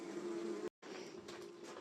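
Native stingless bees swarm over an opened hive pot, a steady close insect drone that cuts out briefly before resuming with scattered louder buzzes.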